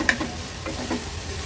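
Onion sautéing in oil for an Agri-Koli style fish thali, a brief soft sizzle with light stirring scrapes, close and steady, no talking.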